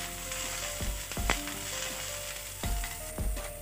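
Capsicum lightly frying in a pan gives a constant close sizzle, broken by a few scraping strokes of a spatula, with no talking.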